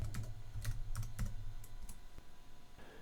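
Close computer keyboard typing a short command, a brisk cluster of key clicks followed by a pause and a final keystroke, with no voice.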